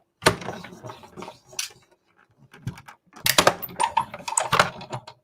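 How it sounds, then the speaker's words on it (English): A Master Layouts 5 rectangle die cutting card in a die-cutting machine, with close irregular clattering, rustling and mechanical bursts, a brief quiet gap and then a louder busy stretch. "I'm going to cut with this die first"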